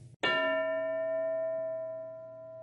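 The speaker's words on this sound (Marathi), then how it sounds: "घंटा वाजले की एक मूल उभं राहील." A single bell is struck once with a sharp, bright clang, then rings on with a long, steady metallic tone that decays slowly, alone and fairly close.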